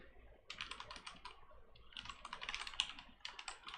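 Code being typed on a computer keyboard, a quiet, close run of rapid, uneven key clicks with short pauses between bursts, no voices.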